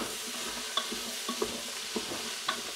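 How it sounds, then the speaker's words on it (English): Vegetables for lamb scouse sauté in a red-hot pot, a close steady sizzle broken every half second or so by the clack and scrape of a spoon stirring against the pot. "Get that sauteing away nicely."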